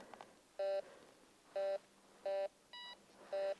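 A Hazlewolke TX-620 foldable metal detector sounds a series of five short electronic beeps at even intervals as it picks up a ring outdoors in the snow; one beep is pitched differently, all fairly faint.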